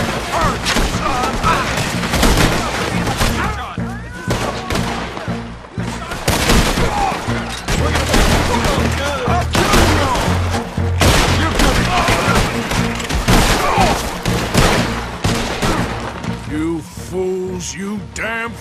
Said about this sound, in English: Your friends fired first, soldier!